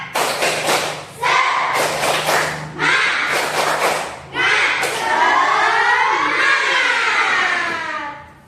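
Classroom group doing a rhythmic spirit clap, bursts of loud unison hand claps in short patterned phrases with pauses, followed by children shouting and cheering together.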